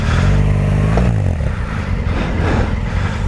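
Honda Africa Twin and BMW R1200 GS big adventure motorcycles, the BMW on knobbly tyres, turn around on wet, low-grip ground with a close, rumbling, low-rev engine throb and slight rises in revs.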